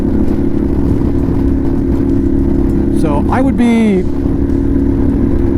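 An Indian motorcycle engine with a 112 cubic-inch V-twin idles steadily and close by, a low continuous rumble heard throughout while someone talks briefly over it.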